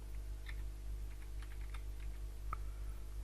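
Light, quick keystrokes on a computer keyboard, a scattered run of soft clicks over a low steady hum, close and fairly quiet.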